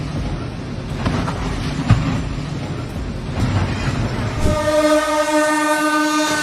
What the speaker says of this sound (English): the relentless oncoming train collided, leaving behind a twisted wreckage